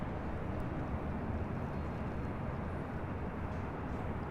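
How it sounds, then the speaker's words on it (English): An ANA Boeing 787 Dreamliner airliner arriving at LAX from Tokyo Haneda makes a faint, distant, steady broadband roar that holds evenly throughout, with no talk over it. "This is the ANA Dreamliner. It's Flight 106 coming in from Tokyo"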